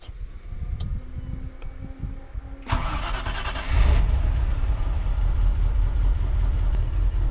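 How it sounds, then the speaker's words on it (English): A Land Rover Discovery engine cranks and catches, settling into a steady, loud idle that carries on to the end, with no voices over it. "now I can plug this fuse back in and start it"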